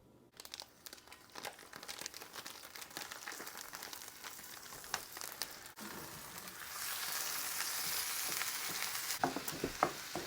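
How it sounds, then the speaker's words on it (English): Ground beef sizzling and crackling in a hot pan, with steady frying hiss and occasional stirring scrapes, growing louder and denser toward the end. "while he is frying up that ground beef"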